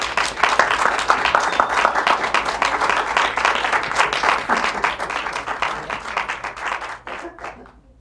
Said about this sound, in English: Big round of applause for Don and Alec.